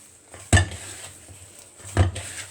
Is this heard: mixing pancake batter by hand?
yes